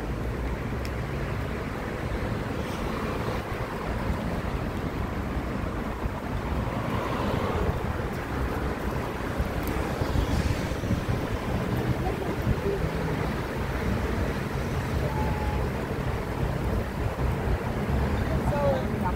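Strong wind in Yerevan, Armenia buffeting the microphone in a constant rumbling roar, with faint voices talking underneath.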